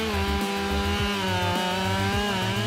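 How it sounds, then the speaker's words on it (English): A heavy-duty chainsaw cuts through wood with a loud, steady engine drone, its pitch dipping and recovering as the chain bites into the log, the revving sustained close up with no talk. "These immense chainsaws have revolutionized the pace and effectiveness of woodcutting on an unparalleled scale."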